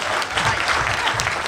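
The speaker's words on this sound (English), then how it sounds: "let's have a nice round of applause for our speakers" Audience applause for speakers at a World War II history panel: dense, steady clapping from a seated crowd, heard up close throughout.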